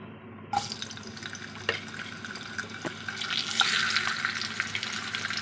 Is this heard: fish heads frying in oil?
yes